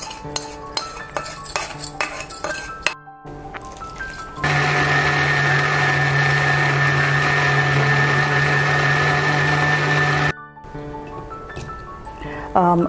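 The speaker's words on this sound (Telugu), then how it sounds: "మిక్సీ పడుతున్నాను" Flattened rice is ground in a kitchen mixer grinder, its steady motor whine holding for about six seconds after light clinks of utensils and brief talk, then cutting off abruptly.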